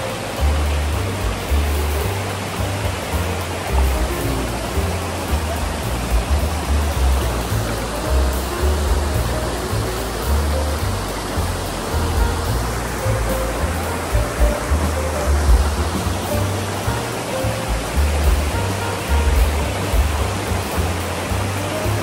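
Lingmala waterfall at the Mahabaleshwar hill station roars without a break, a loud, even wash of rushing water with a pulsing low rumble underneath.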